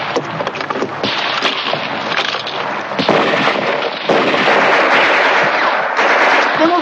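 Battlefield mortar and gunfire in a 1950s war film crack and boom repeatedly over a loud, dense roar of combat noise, with several sharp blasts standing out.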